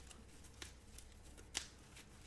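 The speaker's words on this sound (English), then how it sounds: "I will shuffle these really quickly for you guys" A deck of cards for the Roll Player board game market being shuffled quickly, with soft riffling and a few sharper card snaps over a quiet room, close and fairly faint.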